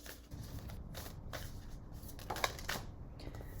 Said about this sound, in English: 6 minutes of shuffling